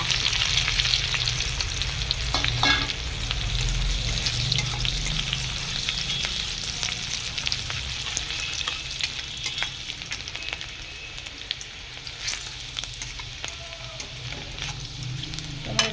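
Green chilies fry in oil in a wok with ginger and garlic, a loud continuous sizzle broken by intermittent scraping stir strokes and small pops.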